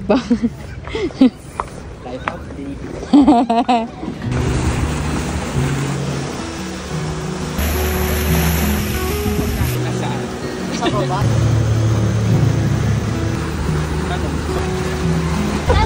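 People talk briefly, then a loud motor roar and rushing water take over, a speedboat droning steadily across the sea off El Nido, Palawan, with wind noise.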